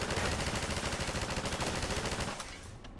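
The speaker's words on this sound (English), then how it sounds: "I'm seeing some return fire." Rapid automatic gunfire from the video game Half-Life 2, a dense, loud, continuous rattle of shots that thins out just before the end.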